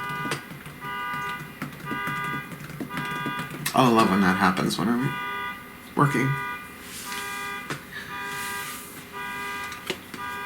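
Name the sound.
car alarm sounding outside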